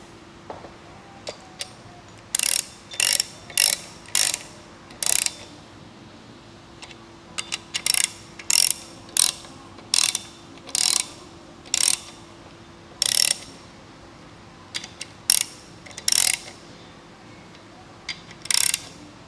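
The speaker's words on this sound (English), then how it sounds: "This is just getting the main caps down onto the block before I get a torque wrench." Ratcheting on a Holden 308 V8 block while the main caps are snugged down: quick bursts of sharp metallic clicks come in repeated strokes with short pauses between them, close and clear over a quiet workshop background.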